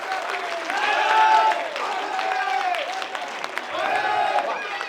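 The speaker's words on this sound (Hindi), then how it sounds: "तालियां जरा हाथ उठाकर बजा दीजिए।" Applause rises from the crowd at an oratorical Hindi poetry recital in Ghaziabad. Raised voices chant and shout over steady clapping in repeated swells.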